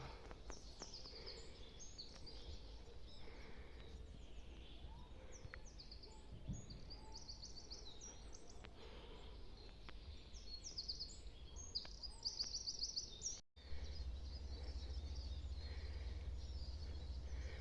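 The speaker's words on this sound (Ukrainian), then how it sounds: "Спів весняних пташок це щось неймовірне" Spring birds sing near a forest in Poland: faint, scattered chirps and tweets drift over a quiet, steady outdoor hush, distant rather than close, with no talking.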